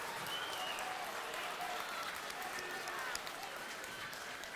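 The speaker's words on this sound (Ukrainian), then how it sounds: "заслужені оплески місцевих вболівальників на адресу молодого голкіпера" Home fans at a Ukrainian First League football match applaud their young goalkeeper after a double save, a steady wash of stadium clapping and crowd noise with a commentator talking over it throughout.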